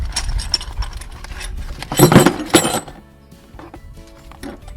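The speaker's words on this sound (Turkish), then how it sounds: "Kendi takım sandığını çıkarıyoruz." The tool kit comes out of the trunk of a Honda Forza 250 scooter with loud close metallic clinks and rattles, then the sound settles into quieter faint handling noises.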